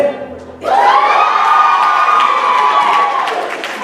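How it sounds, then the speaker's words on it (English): Audience cheering on participants at a money-talk event: a sudden, loud burst of shouting and whooping from a crowd, with children's voices among them, that holds steady for a few seconds before easing slightly. "right side, y'all gonna cheer y'all people on?"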